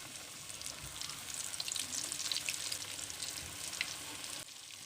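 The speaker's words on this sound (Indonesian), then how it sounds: "langsung aja digoreng untuk si ayamnya" Flour-dredged chicken pieces fry in hot oil in a wok, a steady bright crackling sizzle that runs throughout and eases slightly near the end.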